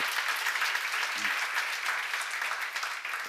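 Church congregation applause during a sermon seminar: a dense, even wash of many hands clapping at once, moderately loud and sustained for a few seconds, with no voices over it.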